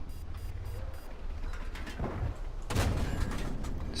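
Tank cannon fire in World of Tanks: two heavy booming shots, the second louder and fuller, with rumbling engine and battle noise underneath.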